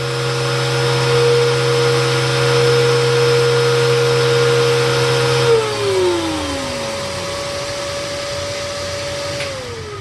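A TriStar CXL canister vacuum cleaner with its HEPA bag in runs steadily with the brush roll spinning. It gives a loud, close, continuous whine, and a pitch drop partway through suggests the brush roll slowing.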